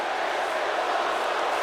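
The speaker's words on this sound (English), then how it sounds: "the crowd appreciating the effort" Arena crowd noise from the wrestling game WWE 2K19, a broad steady roar of cheering that holds level through the short stretch with no clear peaks.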